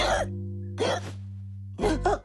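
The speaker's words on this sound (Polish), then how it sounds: "Jak mam pozbyć się tej czkawki?" Cartoon character hiccuping: three short, abrupt vocal bursts separated by pauses, set over sustained low musical tones.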